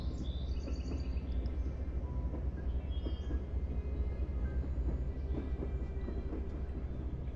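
Train running in the video game Zompiercer: a continuous low rumble of rolling rail cars with faint clicking along the track, steady and close, plus a few thin bird-like chirps high above.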